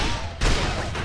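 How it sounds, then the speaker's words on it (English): A shotgun blast in the video game 007 From Russia With Love, a single loud, broad burst that hits sharply partway through and rings out over a dense game backdrop, with no talk. "you can shotgun blast their shields out of their hands"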